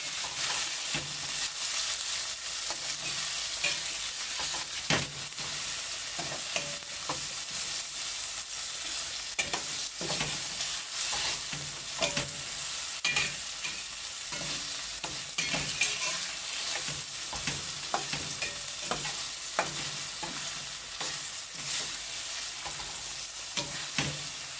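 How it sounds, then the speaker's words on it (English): Ackee and saltfish cooking in a pot gets a steady stir, with continuous sizzling and scraping that is close and even throughout, with no talking. "Give it a stir."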